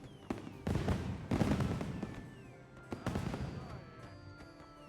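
Fireworks display in the Monster Hunter Wilds video game: a rapid run of sharp bursts and crackling pops, some whistling trails, loud and close, fading into lingering sparkle.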